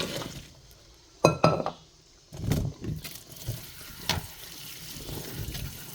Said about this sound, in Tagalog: i-drain natin yung tubig hanggang sa wala ng tubig.